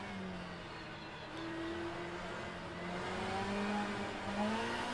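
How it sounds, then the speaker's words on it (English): In a 90s BTCC race at Donington in a racing sim, a Nissan Primera touring car engine whines through rising gear pulls while other cars drone alongside in a steady, moderately loud wash with no talk. "That Primera sounds sweet from the outside."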